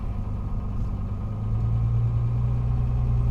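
Engine of a 1961 Mercedes-Benz 220Sb W111 idling at about 950 RPM, a steady, close, low rumble with an even drone that grows slightly stronger partway through, with no talk.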